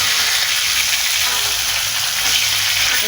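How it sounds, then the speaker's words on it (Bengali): A rohu fish head fries in a pan of hot oil with a steady, close, broadband sizzle that never lets up, and a turner occasionally stirs or flips it. Nobody speaks. "ভাজা প্রায় হয়ে আসছে, আমি এখন আরেকটু উল্টে নেব।"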